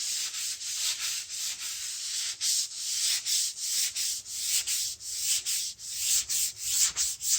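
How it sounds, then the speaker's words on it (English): Light rhythmic strokes of a sanding sponge rub over painted wood, a steady back-and-forth scratching repeated about twice a second, close and alone with no voices. "lightly start sanding it."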